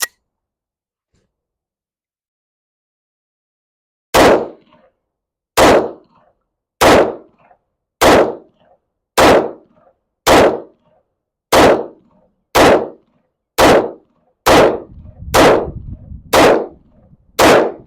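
Beretta M9A4 pistol shots ring out, about twelve loud, sharp reports spaced steadily around a second apart after a few seconds of silence, each with a short decaying tail.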